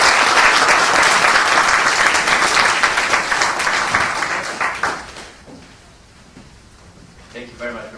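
Audience applause greets the Afghan ambassador Said T. Jawad at a World Affairs Council event in Washington, D.C., a dense, loud clapping that swells for about five seconds, then thins into scattered claps with faint voices.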